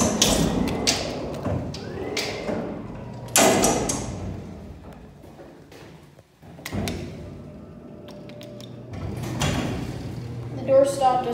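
A Schindler hydraulic freight elevator at Dulles Town Center in Sterling, Virginia, its door sliding and thudding through several clunky movements, with a faulty door stop, while people talk nearby.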